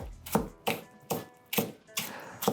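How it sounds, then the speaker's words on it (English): A knife slicing cooked chicken on a cutting board, with five or six crisp chopping taps at an uneven, unhurried pace, close and distinct with no talk. "So I'm going to slice these all the way through."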